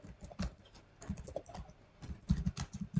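Rapid, uneven clatter of keys as code is typed on a computer keyboard, close and fairly quiet, in short bursts with brief pauses and no talking.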